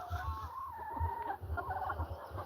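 Young 120-day-old hens near laying age cluck softly in a coop, making a rhythmic series of low pulses with a faint drawn-out call above, quiet and alone.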